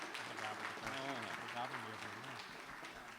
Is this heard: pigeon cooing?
no